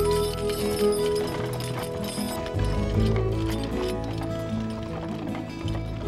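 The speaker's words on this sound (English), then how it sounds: "weekends mean packing the wagon, hitching the horses, and hitting the trail." Horses hitching a wagon train along a trail across the Flathead Indian Reservation in western Montana, with steady clip-clop of hooves and some clinking harness over a busy, continuous outdoor background.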